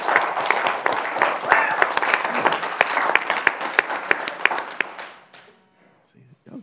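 An audience claps energetically in a dense, sharp burst of applause with distinct close hand slaps, fading out quickly near the end into near silence and a faint voice.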